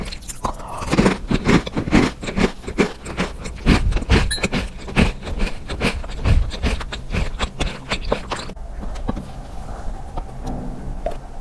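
Crispy homemade bread is bitten and chewed close up, with a rapid run of loud crunching bites that fades into quieter chewing near the end.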